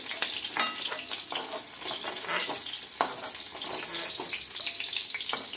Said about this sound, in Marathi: या मिरच्या आपल्याला जास्त तळायच्या नाहीत, आपण हलवारपणे तेलात तळून काढून घेणार आहोत।